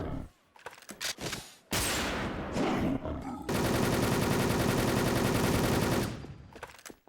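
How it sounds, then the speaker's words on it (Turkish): Rapid gunfire from a Desert Eagle Gold in an online shooter game, bursts of shots building into a sustained, loud, dense volley that runs for several seconds before cutting off. "Ben şu an Deagle Gold'la gerçekten adam mı vuruyorum ya?"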